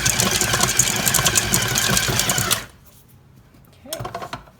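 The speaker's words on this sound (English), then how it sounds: "Mix this on low speed. We don't want to be breaking up the chips." A stand mixer with a dough hook churns chocolate chip cookie dough on low speed, a loud steady mechanical whir for over two seconds that cuts off abruptly, followed by a short clatter.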